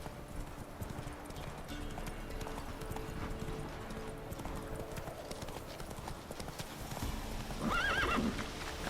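Roach the horse in The Witcher 3 gallops with continuous rhythmic hoofbeats, then gives a loud, rising whinny near the end, with faint voices beneath.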